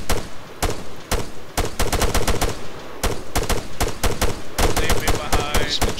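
Rapid gunfire from the military shooter ArmA 3 cracks in dense bursts and single shots, loud and near, with brief pauses between volleys.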